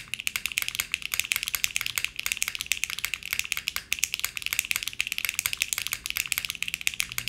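Fast, continuous typing on a mechanical keyboard fitted with HMX Xinhai switches and PBT keycaps, a dense stream of crisp, loud clacks with no talking.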